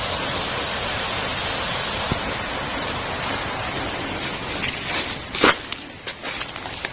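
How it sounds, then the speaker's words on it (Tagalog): A wide, swollen river rushes along beside a campsite footpath in a steady broadband roar, with a few sharper splashes and clicks near the end. "Oh, laki na ng ilog."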